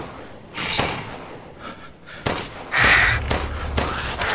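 Gunfire in the video game Resident Evil Village, several sharp shots and bursts spread across the stretch with thuds in between.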